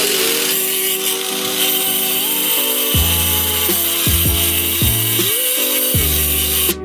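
A grinder works metal parts on a wagon to gain more camber, giving a loud, continuous, harsh whine whose pitch steps up and down as the load changes, with no talking.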